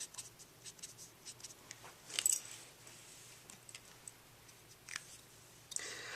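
Marker or chalk writing on a classroom board during a chemistry lesson on orbitals and sublevels, heard as faint, scattered scratchy strokes with short pauses over a quiet room hum.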